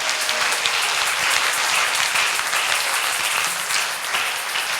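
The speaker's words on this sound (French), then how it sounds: "Applaudissez le Seigneur." A congregation at a church worship service applauds, a sustained wash of many hands clapping together at even strength throughout.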